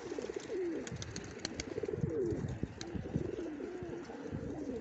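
Pigeons coo repeatedly in low, rolling phrases at close range, with a male among them; several birds overlap in a steady murmur, with occasional wing flutters or knocks and no talking.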